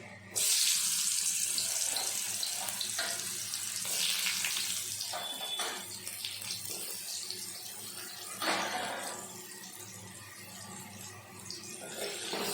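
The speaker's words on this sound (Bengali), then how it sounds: "এবার এগুলো কড়াইয়ে তেল গরম করে আমি এগুলো কড়াইয়ে ছেড়ে দিচ্ছি।" Salted, turmeric-coated pumpkin slices dropped into hot oil in a wok, a loud bright hiss that bursts in and then settles into steady sizzling, fading slightly toward the end.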